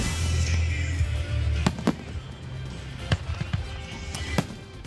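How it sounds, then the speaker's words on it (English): Fireworks at a show in Roy, Utah, with several sharp bangs and cracks at irregular intervals over a rumbling background, moderately loud and without talk. "a fireworks show goes wrong in Roy"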